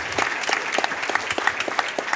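Audience applause breaks out at a live speedrunning marathon event, a brisk burst of many hands clapping from a crowd indoors, fairly close and steady for a couple of seconds.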